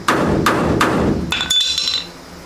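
Three sharp metallic strikes of a body hammer ring out in a steady rhythm, close and loud, knocking rust loose around a screw on a 1957 Chevy, followed by a brief clinking scrape.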